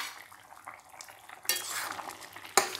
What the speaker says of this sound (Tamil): எடுத்து இடையில இடையில அப்படியே கிளறி கொடுங்க.